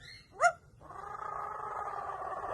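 A pet parrot mimics a cat, giving a short sharp meow-like squeak followed by a low, steady rumbling purr that builds and continues quietly to the end.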